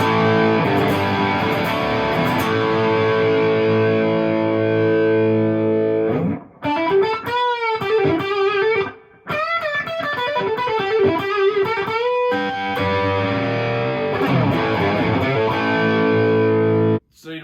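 Overdriven electric guitar, a Les Paul copy through a Marshall amp's overdrive channel, played loud and alone, sustained distorted chords giving way to a run of quick picked notes, then ringing chords again.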